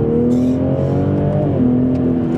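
A 2020 Toyota GR Supra with 340 PS accelerates under full throttle, its engine a steady, close, loud roar with a slowly rising tone.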